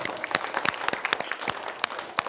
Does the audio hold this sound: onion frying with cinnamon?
no